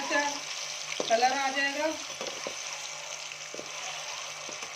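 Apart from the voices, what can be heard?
eggs frying in a pan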